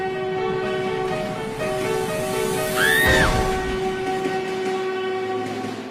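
A train rumbles at a railway station with a loud horn blast partway through, over a steady mechanical drone and faint wheel clatter.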